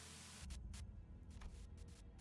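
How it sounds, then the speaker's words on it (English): Harsh radio static from the video game Limbus Company: a steady hiss of white noise with a low hum underneath, broken by several sharp crackling bursts, loud and close, with no voices. "a sudden buzz of white noise breaks through"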